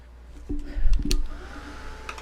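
A hair dryer blows briefly over a freshly painted teapot, a short close whooshing burst of air that rises and then settles within a couple of seconds.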